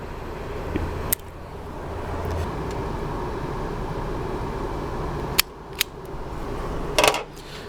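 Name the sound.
cutting a wire for RV brake lights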